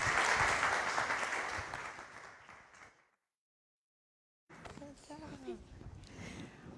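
An audience at a pitch contest applauds a presenter, loud sustained clapping that tapers off into silence, followed by a voice speaking over a quieter room.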